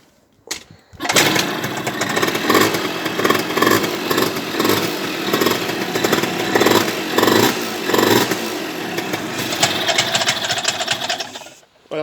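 An MBK Rocket moped's small two-stroke engine idles loud and close with an unsettled, uneven rhythm, the putter surging and sagging over about eleven seconds before cutting off.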